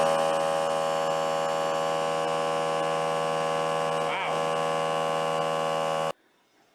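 Electric motor spinning up on a chainsaw-powered air compressor, a steady loud whine with strong even hum tones holding for about six seconds before cutting off abruptly.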